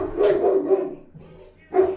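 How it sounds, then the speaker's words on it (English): Small Chihuahua barking in a few agitated bursts close by, with a short gap before a final sharp yap, indoors during a conversation. "That's a big dog."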